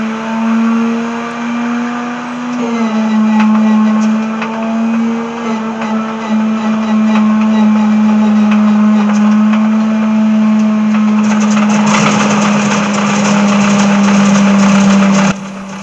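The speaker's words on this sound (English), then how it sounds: "This is a Pratt & Whitney R1340 9-cylinder radial engine." A cold Pratt & Whitney R1340 nine-cylinder radial aircraft engine runs steadily at idle, a loud, close, continuous droning throb that roughens and grows louder near the end as the revs rise briefly.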